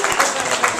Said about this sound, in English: Let's get an applause for the guy who dressed up as Gumby